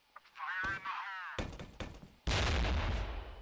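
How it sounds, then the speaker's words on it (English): A flashbang grenade goes off in a video game with a sudden loud burst, then more sharp bangs and a dense blast of noise after an earlier warbling tone. "Flashbang."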